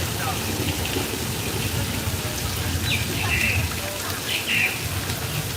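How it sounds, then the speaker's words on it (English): Artificial rain falls from a hidden overhead sprinkler that shoots water straight up on a nighttime studio tour, making a steady broadband patter of drops. It holds constant throughout, with faint crowd voices in the background. "rain is created by an overhead sprinkler hidden from view"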